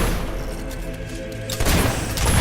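Mortar and battlefield fire in Fable 3: a low rumbling of distant booms and scattered shots, then a louder burst of blasts in the final second that swells close.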